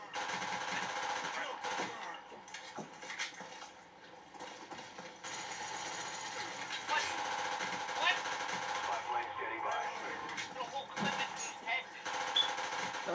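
Rapid bursts of automatic gunfire from Call of Duty: Black Ops, continuous and dense across the clip, with a player talking over the shooting.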